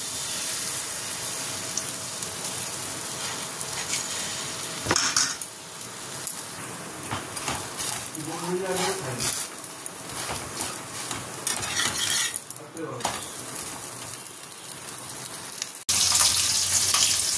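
Bhetki fish bones sizzling in a little oil in a pan, with a steady frying hiss, occasional stirring scrapes and clinks of utensils on the pan, and a brief burst of water near the end.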